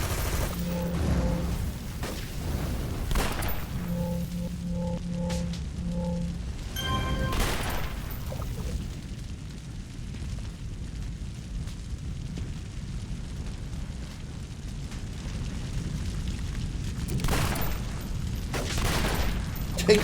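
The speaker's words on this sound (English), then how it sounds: "Shoot me right in the face with a full auto assault rifle" Full-auto assault rifle gunfire in the City of Heroes video game, a steady rattling barrage with occasional louder bursts over ongoing game noise and faint tonal beeps.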